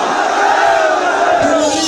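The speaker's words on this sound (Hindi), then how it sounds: "हजारों लोगों की भीड़ इस महापंचायत में थी" A dense crowd of thousands at a mahapanchayat roars and shouts together in a loud, continuous mass of voices close by.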